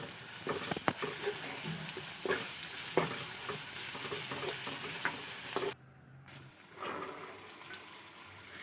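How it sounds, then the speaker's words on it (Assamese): Spice masala frying in oil in a pan for a chickpea dish, a steady close sizzle with repeated stirring scrapes and a brief drop-out near the end before the sizzle resumes. "এতিয়া মই গোটেই মছলাখিনি ধুনীয়াকৈ ভাজি ল'ম।"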